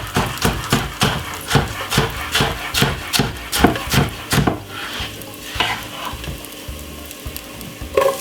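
Garlic cloves and spring onion tossed into a hot pan on the stove, with a rhythmic series of scraping stirs over a steady sizzle, close and loud, the stirring slowing toward the end.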